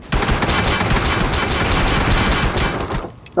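Automatic gunfire in the PUBG Mobile video game, a loud sustained burst of rapid shots running almost without pause, then cutting off abruptly near the end.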